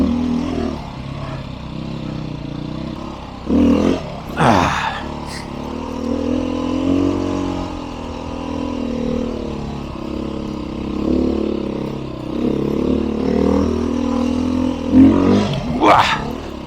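A Beta 500 RRS dirt bike engine drones steadily up a Colorado forest trail, rising and falling with throttle changes and breaking into a few sharp revving bursts, close and loud throughout.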